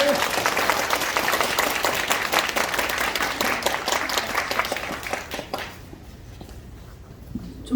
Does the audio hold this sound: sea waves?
no